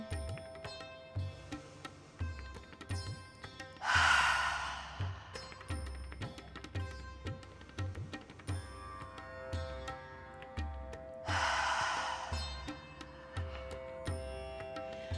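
Forceful, rhythmic Kundalini yoga breathing pulses in quick, regular exhalations over soft sustained music tones, broken by two longer, breathy rushes of air.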